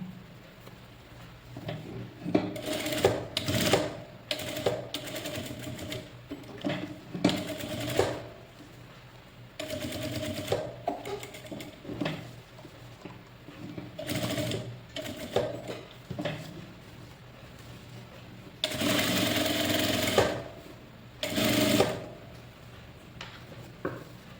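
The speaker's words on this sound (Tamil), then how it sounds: "இப்போ தையல் போட்டுக்கலாம்." Sewing machine stitching a blouse in several bursts, a mechanical whirring rattle that starts and stops with short pauses between runs, close and moderately loud.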